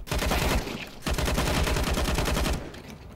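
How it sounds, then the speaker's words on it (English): Video game gunfight with rapid bursts of automatic gunfire and shots, loud and continuous, with a brief lull near the one-second mark before firing resumes and fades slightly at the end. "Throwing flashbang."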